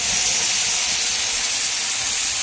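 Spice paste frying in hot oil with cumin for an egg curry, giving a loud, steady broadband hiss and sizzle that holds evenly throughout with no talking.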